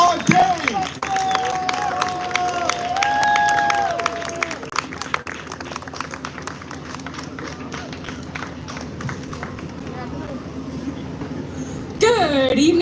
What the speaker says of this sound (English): I need you to start clapping right now for your next poet